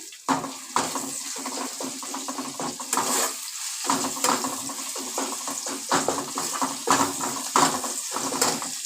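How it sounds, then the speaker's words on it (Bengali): Grated ginger, garlic and tomato frying in a pan for mankochur paturi, a steady sizzle broken by repeated scraping and stirring clatters, close and fairly loud throughout with no talk. "আদা আর রসুন গ্রেট করে দিয়ে দিয়েছি এর মধ্যে সেই দুটোকেই ভালো করে ভেজে নিচ্ছি"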